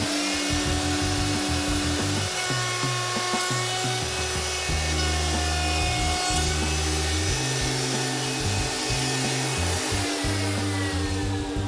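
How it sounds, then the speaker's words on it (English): A router table whines steadily while cutting rabbets into the sides of wooden sill and head trim casings, with the pitch dipping and shifting as each piece feeds through the bit. "he sets up his router table and rabbets the sides of the sill and head casings"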